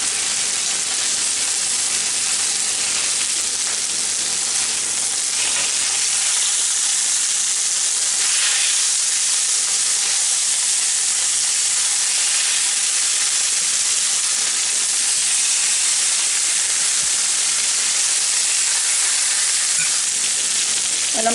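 Cube steak sizzling steadily as it fries in a pan, a dense, even crackle and hiss that holds close and loud for the whole stretch with no talking.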